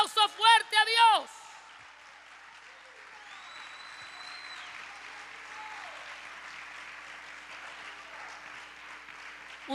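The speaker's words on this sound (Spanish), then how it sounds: "denle un aplauso fuerte a Dios" Congregation applause at a Wednesday evening church service, a steady wash of many hands clapping that follows a brief burst of a speaker's voice at the start and continues alone at moderate loudness.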